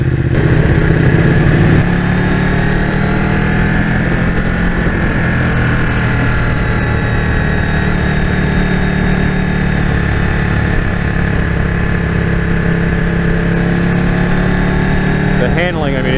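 Close, loud engine drone of a 2015 Ducati 1299S superbike on the move, holding a steady pitch throughout with rushing air beneath it.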